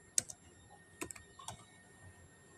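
A few sparse keystrokes on a computer keyboard while entering text into a website project, heard as three or four quiet separate taps over a faint hum, with no talking.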